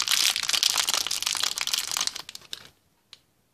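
Scissors cut open plastic packaging around a toy doll's shoes, a dense run of close crinkling and crunching plastic that tapers off, followed by one last faint crackle.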